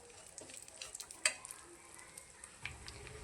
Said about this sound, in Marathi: खोबरे पण आपण ब्राऊन कलरचं होईपर्यंतच भाजून घेऊया.